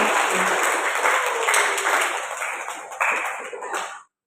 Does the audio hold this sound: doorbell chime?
no